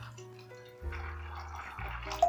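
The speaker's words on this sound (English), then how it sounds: "Then I'm going to add in some water." Water pours into a bowl of heavily salted groundnuts, a close, low gurgling stream that starts and stops in two pours with a slight splash at the end.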